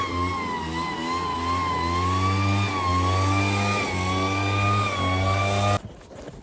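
A gas-powered leaf blower clears leftover loose rock off an area after the stones were moved, running as a steady, loud, close engine drone that cuts out abruptly near the end.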